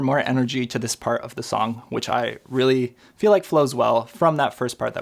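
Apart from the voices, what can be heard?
No distinct noise like a dog, phone or traffic.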